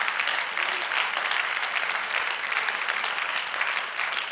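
A church congregation applauds steadily, a dense, continuous wash of many hands clapping at close range with no talk over it.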